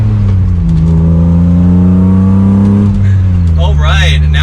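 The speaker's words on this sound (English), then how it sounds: "One last acceleration. And it is so quick." A 2022 BMW M3 accelerates hard, its engine note rising in a loud, close, smooth climbing drone, dipping briefly at a shift before revving up again, with a person talking over the engine.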